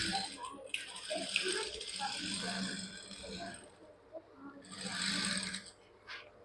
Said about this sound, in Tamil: இப்போ இந்த ஓரமா தையல் போடணும். ஓரமா தையல் போட்டுட்டு வாங்க.